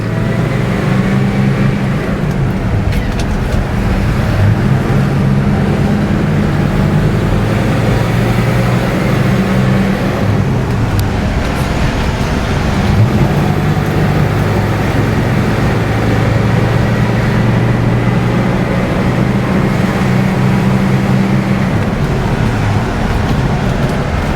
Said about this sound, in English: do a quick spin in this car so you can feel what it's like to drive a nearly new 1971 Pontiac Grand Prix Model J with a 4-speed.